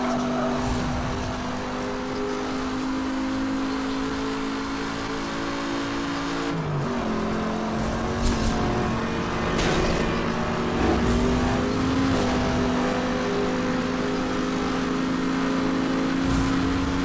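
In the racing game Need for Speed Hot Pursuit Remastered, an Audi's engine drones steadily at high revs, shifting pitch with gear changes, over whooshes and faint tire noise, with no talking.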